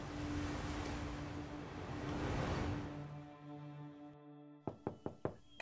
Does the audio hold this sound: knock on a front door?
yes